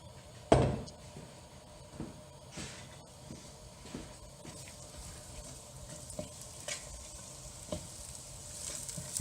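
Onions fry in oil in a pan for chickpea curry: a gentle, steady sizzle with a thud as they go in, followed by regular soft scrapes and taps of stirring.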